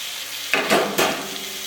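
Lengthwise-sliced tomatoes hitting hot oil with softened onions in a pan for a Kerala crab curry: a low sizzle that flares into two quick bursts of hissing as they go in, close.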